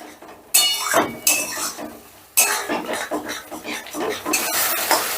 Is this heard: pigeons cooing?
no